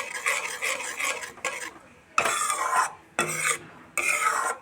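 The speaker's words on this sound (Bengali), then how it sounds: "এভাবে আরেকটু সময় আমি মশলাটাকে কষিয়ে নিচ্ছি" A spoon scrapes and stirs thick eggplant masala gravy as it fries in a pan, in several separate bursts of rasping strokes with short pauses between them, close and fairly quiet.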